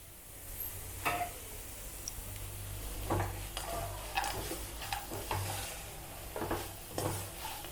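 Ghee-fried cashews stirred into a thick coconut burfi mixture in a pan, with soft scraping and occasional ticks of the spoon against metal over a faint sizzle, close up and without talk.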